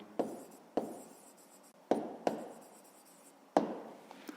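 A pen writes by hand on paper in short scratchy strokes, five or six separate bursts that each start sharply and fade, close and quiet, with no talk.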